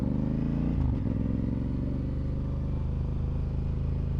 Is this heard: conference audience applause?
no